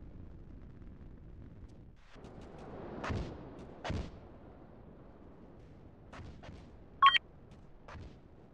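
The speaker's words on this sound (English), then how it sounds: "We're taking fire over here." Incoming gunfire in a naval video game: several sharp booming shots and a brief electronic beep ring out over a steady low rumble, with the blasts spaced irregularly and fairly loud.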